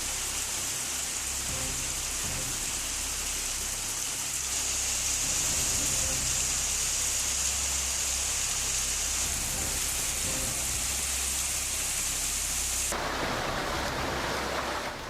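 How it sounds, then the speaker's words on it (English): Hail pounding down during a thunderstorm in Lakewood, a dense steady roar of ice pellets striking surfaces close by, continuous for the whole stretch and briefly growing harsher and brighter near the end. "Lakewood is buried under hail as ice pellets rapidly accumulate"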